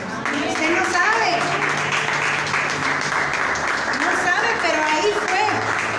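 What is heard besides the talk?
audience applause in church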